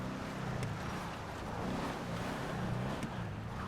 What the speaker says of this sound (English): I don't know how well you can hear the wind howling.